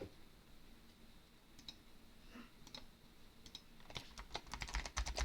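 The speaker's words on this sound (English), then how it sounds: "we're gonna type Dust Devil" Keystrokes on a computer keyboard, sparse single taps at first, then a quicker burst of typing toward the end, close and fairly quiet, no voices.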